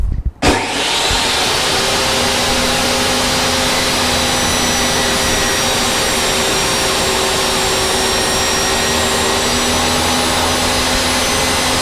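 A power saw cuts wooden boards down to thickness for a toybox truck build, a loud continuous whine that runs steadily from just after the start to the end, with no talking.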